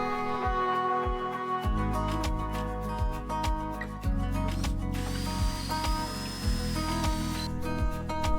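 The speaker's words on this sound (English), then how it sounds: "Now to space them out and screw them down." Wooden deck slats on a log bench built from a fallen tree are screwed down with a power driver, giving a steady series of short, regular whirring bursts with ratcheting clicks, close and fairly quiet.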